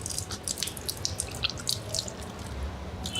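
Tap water running and splashing into hands and a basin during ablution, with irregular drips and splatters close by, steady throughout with no talking.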